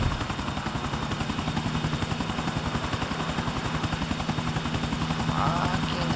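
A helicopter's rotor thumps rapidly and evenly with a steady engine whine, close and continuous throughout with no pauses, in the video game Grand Theft Auto IV.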